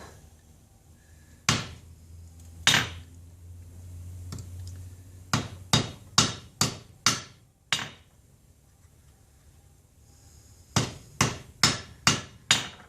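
Hammer blows shaping a soft silver ring, struck in separate groups of sharp, ringing metallic taps: a few spaced single strikes, then quick bursts of four to six, close and fairly loud.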